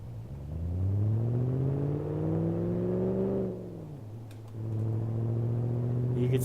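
A simulated manual-transmission car in BeamNG pulls away and accelerates, its engine droning upward in pitch through first gear, dropping briefly on a jerky shift, then climbing again, loud and close without talk.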